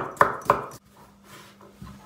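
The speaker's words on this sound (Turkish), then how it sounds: "Havucu da aynı şekilde doğrayacağız." A knife chops carrots on a cutting board in a home kitchen for a Turkish meatball dish, giving two sharp, close knocks followed by quieter, softer cutting sounds.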